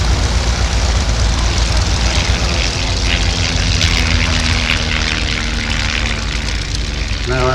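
Steady drone of a Tipsy Belfair two-seat light aircraft engine in flight at an air show, loud and continuous, with a slight tonal shift near the end.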